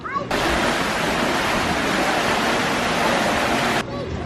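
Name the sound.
water bubbling and tumbling down a pool chute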